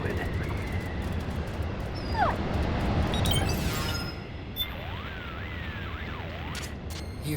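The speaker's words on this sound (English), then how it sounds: "The wolf dogs." Wolf dogs whimper and yip in a Metal Gear Solid 4 game scene, high thin cries sliding up and down over a noisy, busy background, with a voice speaking at moments.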